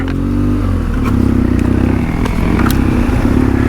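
Loud, close engine drone of a custom BMW 1200 GSA motorcycle riding a dirt trail, steady and throbbing throughout, with occasional clatter and scrapes from the rough ground.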